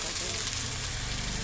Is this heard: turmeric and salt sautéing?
yes